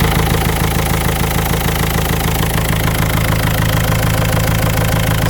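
A Renault Megane mk2 1.5 dCi diesel engine with over 238,000 miles idles loudly up close, with a rapid, even knocking clatter under a rough, steady drone.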